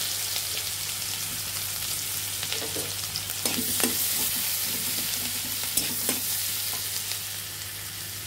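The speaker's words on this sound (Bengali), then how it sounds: "এখন পেঁয়াজ কুচি দিয়ে দেব।" Chopped onion sizzles and fries in hot oil in a pan with cinnamon and cardamom, a steady crackling hiss with occasional stirring scrapes, close and alone.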